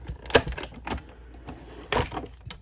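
A machine cutting cardstock to make a shadow box card window, quiet mechanical clicks and short whirring passes, a few brief bursts close by with no talking.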